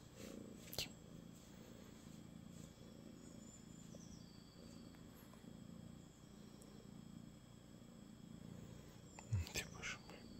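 A house cat purrs softly and steadily up close in a quiet room, a low continuous rumble with faint murmured speech and small rustles over it.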